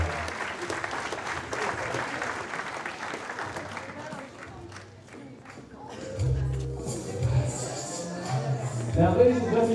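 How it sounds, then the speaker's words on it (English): Wedding reception guests applauding the newly married couple, a broad, sustained wash of clapping that dips briefly and then swells again with crowd noise and cheering near the end. "Let's give a big round of applause, ladies and gentlemen."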